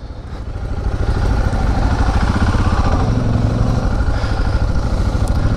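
A Suzuki DR650 motorcycle engine runs close by with a loud, steady, thumping single-cylinder idle that rises into a slightly stronger rumble after the first second.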